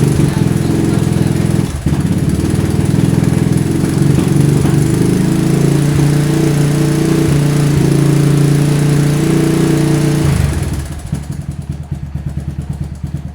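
Trail bike engine running at a rough, loud idle with uneven chugging and clattering, then cutting down and thinning out near the end; no speech over it.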